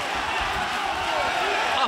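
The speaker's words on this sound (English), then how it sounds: "And listen to this crowd." Arena crowd at a ONE Championship MMA bout roaring in a steady, broad wash of cheering and noise, continuous and fairly loud, with a commentator's voice faintly blended in.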